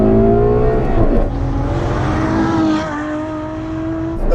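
Ferrari F12 TDF accelerating flat out, a loud close engine wail climbing in pitch through gear changes, with brief dips between each rising sweep.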